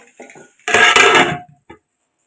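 A metal lid is set onto a cooking pot of arvi salan. It makes one loud, close clatter and ringing scrape, with a small tap after it, following brief speech.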